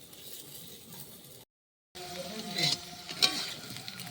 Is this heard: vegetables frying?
yes